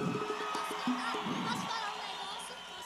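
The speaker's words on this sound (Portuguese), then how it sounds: "Eu quero uma salva de palmas pro meu dançarino aqui" A crowd at a São João show in Campina Grande cheers and whoops for a dancer, a lively mass of voices under a singer's amplified talk and faint music.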